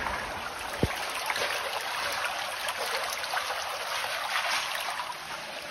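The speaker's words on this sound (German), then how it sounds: "es fließt reichlich Wasser" Water flows plentifully through a narrow rocky wadi gorge in Petra, making a steady, close, continuous rushing and trickling sound with one brief knock near the start and no talk.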